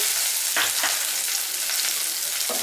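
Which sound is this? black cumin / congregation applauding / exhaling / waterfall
black cumin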